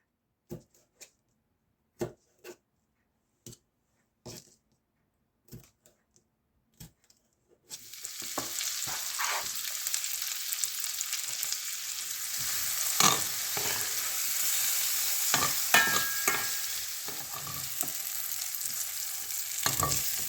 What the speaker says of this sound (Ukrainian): я наріжу також невеликими шматочками болгарський перець і буду його обсмажувати на вершковому маслі